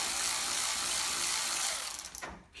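A ratchet works on 8mm clamps of the air intake on a 2011-2016 Ford F-150 3.5L EcoBoost, giving a close, continuous buzzing rasp that falters into a few separate clicks near the end.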